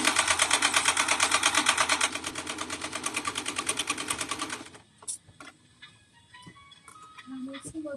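A sewing machine stitches a zigzag at a fast, rhythmic pulse for several seconds, then stops, leaving faint handling clicks and a quiet voice.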